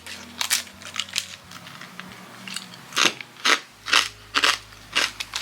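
Repeated crisp crunching bites on sheets of scorched rice (nurungji), close and fairly loud, coming in irregular bursts with brief pauses between chews.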